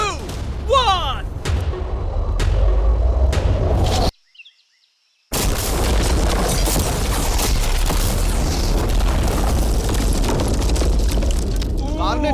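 A loud blast goes off beside a car as it is blown into the air, a heavy booming burst followed by a sudden cut to near silence, then a long roaring, crackling rumble of debris and wind.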